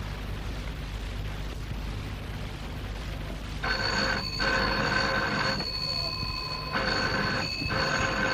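A telephone bell rings in two long bursts with a pause between, over a steady low background hum in a radio drama scene.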